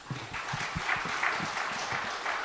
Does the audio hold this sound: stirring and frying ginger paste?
no